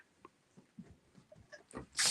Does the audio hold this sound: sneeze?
yes